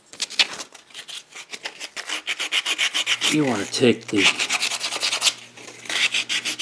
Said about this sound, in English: I'm going to finish up the sanding with a piece of sandpaper by hand